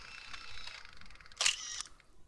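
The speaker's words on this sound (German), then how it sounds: "Ein Geräusch, ein schriller Blitz, gefolgt von Zersplittern eines Gläschens Birnchen" Camera flash bulb in the video game Disco Elysium: a soft whine and click, then a sharp bright pop with a glassy crackle near the middle, followed by a short fading ring, alone and close.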